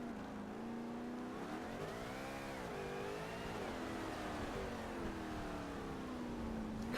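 A race car engine in Forza Motorsport drones steadily, its pitch climbing, dipping and swelling as the car revs and shifts through a section, loud and continuous with no talk.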